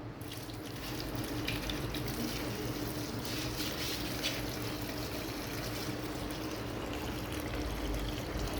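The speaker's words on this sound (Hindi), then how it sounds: "डाल दो बेटा, सारा पानी डाल दो आप।" Water poured from a mug onto the roots of a plant makes a steady, continuous splashing trickle that runs for several seconds at close range, with no talk over it.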